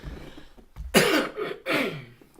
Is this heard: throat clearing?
yes